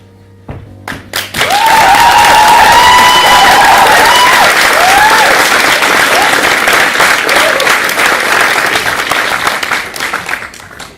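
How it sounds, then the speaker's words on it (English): A large audience bursts into loud applause and cheering after a brief pause, with a few voices whooping early, sustained dense clapping that slowly tapers toward the end. "Applause, applause,"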